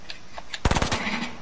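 Rapid burst of automatic gunfire in the video game Fortnite, about half a dozen close, loud shots in quick succession, with a faint low hum of game ambience trailing after.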